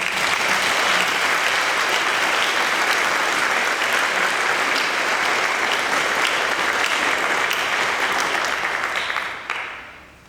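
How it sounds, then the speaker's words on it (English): At a Founders Day ceremony, an audience gives a sustained, loud round of applause for singers, a thick even roar of many hands that fades out near the end. "Can we give them a round of applause?"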